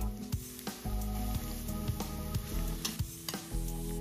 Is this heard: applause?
no